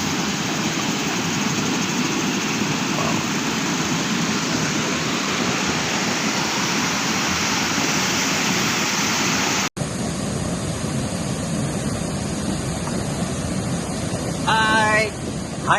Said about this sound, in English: this is the waterfall which I was telling from just now